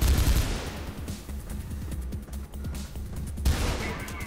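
Sustained automatic gunfire in Mirror's Edge, loud and dense bursts of rapid shots filling the whole stretch with a heavier blast near the end.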